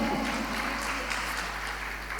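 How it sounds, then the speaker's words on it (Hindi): A Jain religious discourse gathering, largely women, clapping in a hall, a steady, moderately loud wash of applause over a low electrical hum. "चलो अपने लिए तालियां बजा लो यदि होते हैं तो"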